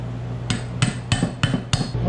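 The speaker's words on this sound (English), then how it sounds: "we drove the bearing and seal down for the pinion" Five sharp metallic hammer strikes in an even rhythm drive a pinion bearing and seal down with a socket on a Miata steering rack, close and crisp with a low hum beneath.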